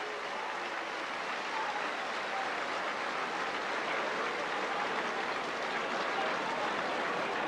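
Crowd at a 1987 Limerick versus Tipperary National Hurling League quarter final applauding steadily, a broad continuous wash of clapping held at even loudness throughout, with no distinct voices.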